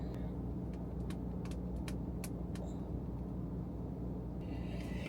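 Inside a car after work, a steady low engine and road rumble fills the space while a series of light clicks and ticks sound over it.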